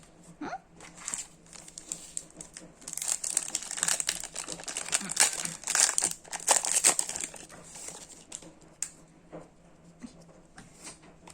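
Crinkling foil wrapper of a Magic: The Gathering Double Masters 2022 booster pack being torn open and handled, close rustling bursts that swell in the middle, with quiet talk nearby.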